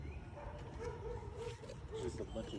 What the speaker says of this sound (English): You hear that barking?